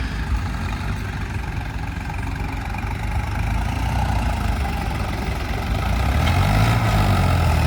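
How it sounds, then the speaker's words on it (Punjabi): A 60-horsepower tractor engine idles with a low, steady chug, then grows a little louder and throatier toward the end as it revs. "ਆ ਹੈਗਾ ਟਰੈਕਟਰ 60 ਹਸ ਪਾਵਰ ਆ"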